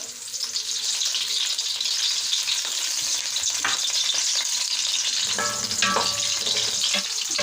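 Oil goes into a hot pan while making Egyptian stuffed cabbage, giving a continuous close frying sizzle with light stirring and scraping sounds that grow busier toward the end, with no talking.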